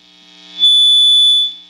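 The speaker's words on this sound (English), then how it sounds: "you get a lot of noise and some feedback" A cheap 15-watt Fender amp with its gain turned all the way up on a P-90-equipped guitar emits a high, steady feedback squeal over a low hum, rising sharply and holding for under a second.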